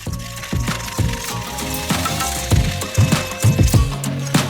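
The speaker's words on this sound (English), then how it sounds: "continue whisking until all the lumps are broken down" Whisking sugar into thickening coconut rice pudding in a pot: quick, irregular metal-on-pot clicks and scrapes with a rattling rhythm, close and moderately loud, no talk.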